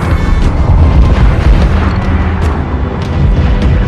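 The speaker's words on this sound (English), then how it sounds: "Mortar incoming!" A mortar shell explodes in the Assassin's Creed Black Flag video game: a loud, deep, rumbling boom that fills the whole moment, with sharper bursts of debris or gunfire cracking through on top.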